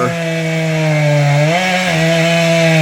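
A chainsaw cuts through a downed tree after Hurricane Helene, roaring loudly and continuously up close, its engine pitch dipping slightly as it bites into wood.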